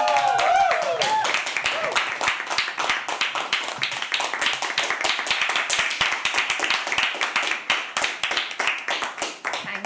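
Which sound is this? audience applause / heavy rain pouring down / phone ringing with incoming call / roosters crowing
audience applause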